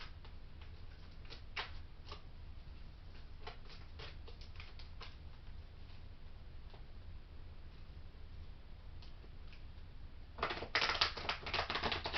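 Soft, quiet tarot card shuffling with scattered light ticks and riffles over a low hum, ending in a brisker, louder burst of shuffling.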